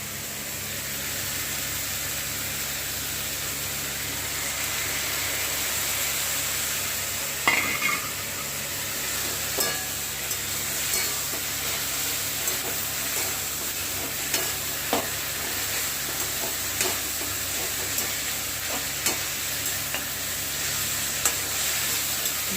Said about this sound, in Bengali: ভালো করে এটা স্টেয়ার করে নিতে হবে, মশলাটা দিয়ে ভালো করে কষাতে হবে।